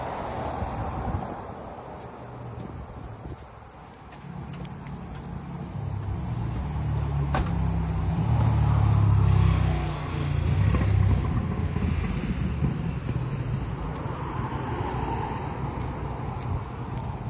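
A 1989 Chevrolet Caprice Brougham with a V8 engine drives along, producing a low, moderate rumble mixed with wind and road noise that swells in the middle and then eases off, with no voices.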